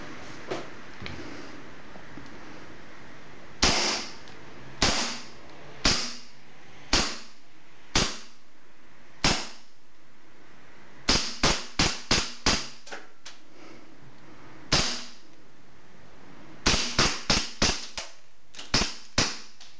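A KWC 1911 CO2 airsoft replica pistol fires sharp, loud, close shots, first singly at steady intervals and then in quick clusters of four or five, with a quiet pause between strings.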